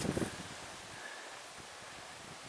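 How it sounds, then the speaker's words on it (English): Wind blowing across a lakeside hiking trail near Lake Superior, a faint, steady rush and rustle with a brief buffet at the start. "Of course it's windy right here."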